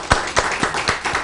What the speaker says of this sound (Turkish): Evet bir alkış alıyoruz.